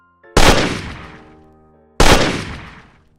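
Two loud, close gunshot blasts about a second and a half apart, each a sharp crack with a long booming tail that rings out and decays, used as a sound effect in a creepypasta horror story.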